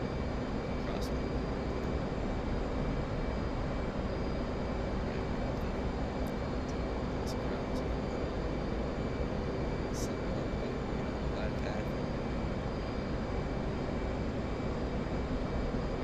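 A fighter jet's engine in the DCS flight simulator game gives a steady, broad roar that runs unbroken through the whole stretch, with faint higher tones laid over it.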